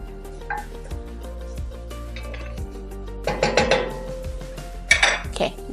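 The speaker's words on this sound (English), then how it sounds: "we'll give this a stir" A utensil stirring thinly chopped green onion in a pot for chicken pot pie soup, with metallic clinks and scrapes that grow busier toward the end over a steady low kitchen hum.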